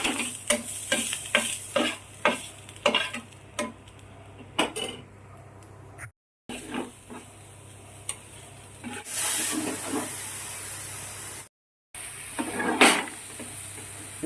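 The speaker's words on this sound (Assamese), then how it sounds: "এতিয়া আমি ইয়াতে কেপচিকাম, তাৰপিছত বন্ধাকবি এইবিলাক দিম, দি পেলাই আমি ফ্ৰাই কৰিম" Capsicum and cabbage are stir-fried in a pan, with repeated clacks of a spatula against the pan over a continuous sizzle and a few short pauses, close and clear.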